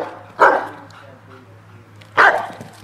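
A Rottweiler in guard training gives two loud, deep barks close by, spaced about two seconds apart, with a low steady hum beneath.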